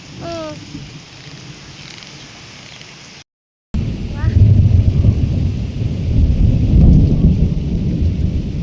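Heavy May rain hiss in Dapoli, Konkan, with a deep rumble of thunder rolling in after a brief gap, loud and sustained.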